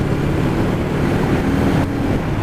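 A Yamaha MT03 300cc motorcycle accelerating in sixth gear from about 40 to 50 mph: a steady low engine drone heard under heavy rushing wind noise on the move.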